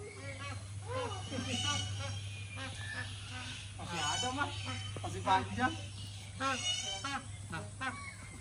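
Ducks quack repeatedly close by, with loud honking calls mixed among people talking over them.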